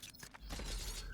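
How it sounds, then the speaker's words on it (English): Glass shatters in the Valorant video game during a college esports match, a short crisp break heard from a distance, followed by a steady low rumble of game ambience. "We hear the glass break from Slumdank."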